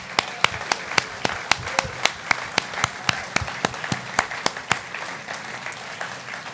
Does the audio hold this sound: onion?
no